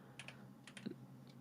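Quiet clicks on a computer keyboard, a few scattered keystrokes in small pairs with short pauses between them, close and soft, with no talk.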